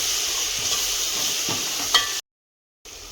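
Country chicken curry with coriander stirred in a pan, a steady sizzling hiss with a few soft scrapes and a brief utensil knock, then a short dropout of silence before the sizzle returns.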